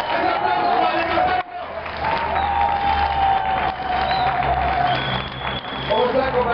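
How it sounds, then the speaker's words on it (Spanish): Crowd at a political rally held in an office applauds and cheers, a dense sustained roar of clapping and shouts with brief dips, voices calling out throughout. "En el aplauso para el Víctor"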